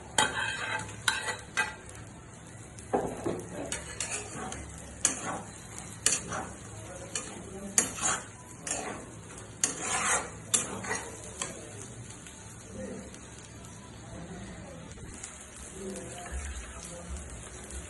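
Fried eggplant pieces tipped into a pan with hot oil and stirred for a pickle-style curry, with scraping utensil strokes, clinks and a soft sizzle in bursts, fading quieter toward the end.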